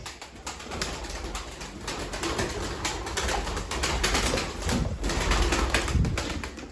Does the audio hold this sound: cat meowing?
no